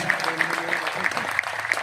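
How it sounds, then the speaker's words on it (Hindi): Audience applause welcoming speakers at an Arya lecture gathering in Kurukshetra, a continuous dense clapping wash of a crowd, moderately loud, with some voices underneath. "एक बार जोरदार तालियों के साथ सभी स्वागत"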